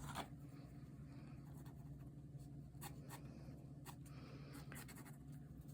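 An OHUHU 0.05 fineliner pen draws on paper, a quiet close scratching of short strokes and flicks in an irregular rhythm, heard alone without talk.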